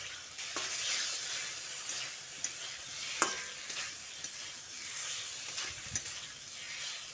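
Fried potatoes stirred into bubbling spice masala in a pan for a vegetarian banana-flower (mocha) dish: a steady close sizzle with intermittent scraping clicks from the spoon, no voices.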